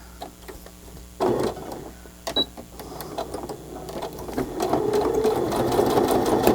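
A sewing machine stitches pockets with the presser foot as guide, starting with a few clicks and then running in steady mechanical bursts that grow louder and more continuous toward the end.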